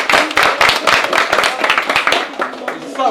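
Lively applause and clapping from a small crowd, dense at first and then thinning out over a few seconds.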